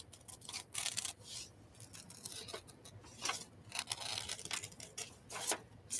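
Scissors snip and slide through paper while images are fussy cut out by hand, a quiet, close series of irregular crisp cuts and rustles.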